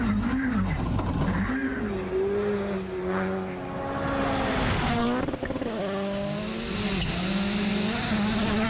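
WRC rally cars race through a stage at Rally Finland 2024, their engines screaming and revving with sharp pitch swings as they pass close and loud, with a brief voice over the noise.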